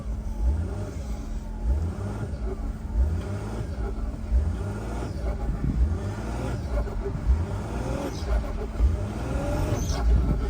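A car stuck in snow, its engine revving and straining in surges with traction control cutting in, a close, continuous mid-pitched drone that rises and falls, while someone speaks briefly over it.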